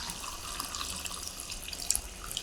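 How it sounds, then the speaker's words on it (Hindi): Water poured from a tap into a pot of kofta curry, a steady splashing, gurgling rush that runs evenly and close throughout. "थोड़ा सा पानी और शामिल करेंगे"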